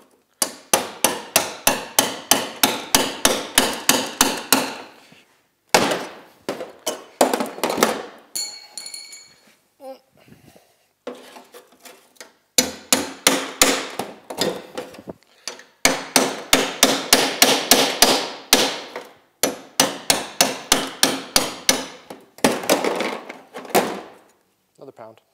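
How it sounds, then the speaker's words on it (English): An old claw hammer pounds on Yamaha Enticer snowmobile parts during a modified sled build, ringing metallic blows in quick repeated bursts with short pauses between runs, close and loud. "Gotta love this old claw hammer."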